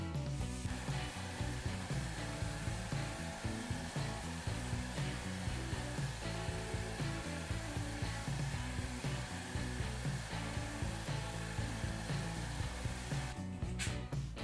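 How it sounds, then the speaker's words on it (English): Steady wood-lathe turning of a vessel as a shear scraper takes fine shavings, a continuous dense whirring scrape with a faint rhythmic low thump from the spinning piece, sustained and even until it stops near the end. "When shear scraping, the objective is to get the finest shavings off that you can, sometimes referred to as angel hair."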